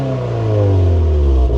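A Subaru WRX (VB) engine revs, a loud, close exhaust note that builds in pitch and then eases, with a deep rumble and no talk.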